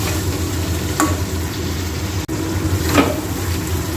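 Chicken stir-frying in a pan with a paste of onion, cashew and raisin, a steady close sizzle with occasional spatula scrapes and stirring, no talk.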